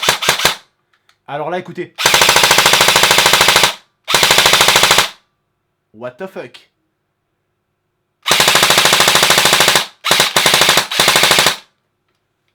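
An airsoft gun fires loud, close bursts of rapid full-auto shots separated by pauses. Someone speaking French talks and exclaims in the gaps between bursts.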